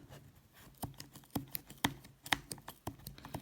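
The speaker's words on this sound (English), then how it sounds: "you're going to take your scissors and all you're going to do is just cut your yarn" A series of sharp, separate snips and clicks, roughly evenly spaced and close by, like scissors cutting through yarn, with no voices.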